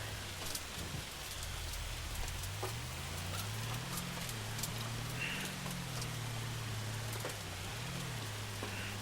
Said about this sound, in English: Yep, that's definitely hail. Hear it hitting the roof.